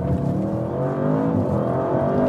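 An Audi RS7 with all-wheel drive accelerates hard up to 50 miles per hour, its engine note climbing steadily and loudly through the gears, heard from inside the cabin with a continuous strong roar.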